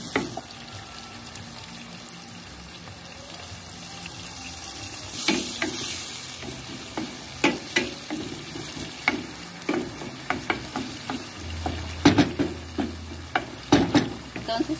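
Pork sizzles and bubbles in a pot while tacacho is cooked at home. A constant hiss sits under sharp metallic scrapes and knocks from stirring that grow busier toward the end, with no talk.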